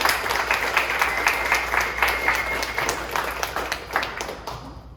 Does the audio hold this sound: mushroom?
no